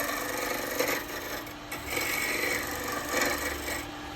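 A spindle gouge cuts into wood spinning on a lathe, giving a steady close rasping scrape that swells and eases over a few seconds.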